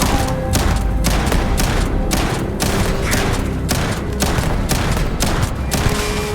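Rapid bursts of gunfire from a sci-fi firefight in the video game Starfield, loud and dense, with repeated shots and sharp impacts packed across the whole stretch and no talk over them.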